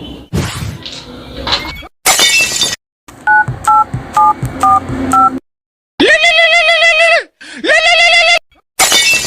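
A phone keypad beeps through a quick run of six evenly spaced dialing tones, framed by louder electronic bursts and clatter.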